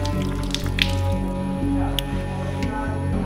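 Water drips and squishes close by while a bull's maggot-infested wound is being cleaned, a steady wet trickle over a constant low hum with no talking.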